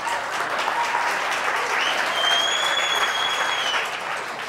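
Applause from an audience at a 1994 church meeting, a steady dense clatter of many clapping hands, fairly close and continuous without talk.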